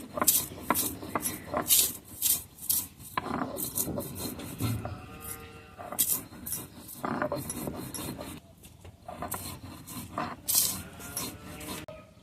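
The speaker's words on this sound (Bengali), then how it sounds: "প্রথমে আমি পুঁটি মাছগুলো বেটে নিচ্ছি" Rhythmic rough grinding of small puti fish on a stone slab with a grinding stone, repeated stone-on-stone strokes close by, with occasional faint voices in the background.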